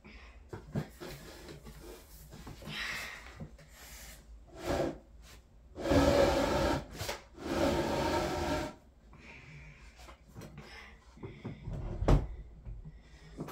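Furniture is shoved and dragged to barricade a door in a video game, with scattered knocks and two longer scraping drags in the middle, fairly close and without talk.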